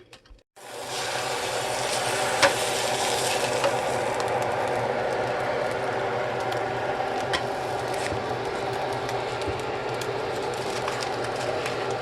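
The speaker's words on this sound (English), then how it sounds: "we're going to fry these up really quick" Food sizzling in a hot frying pan for cheesesteak lasagna, a steady, bright hiss starting abruptly and holding evenly throughout, with occasional small pops and crackles and no talk.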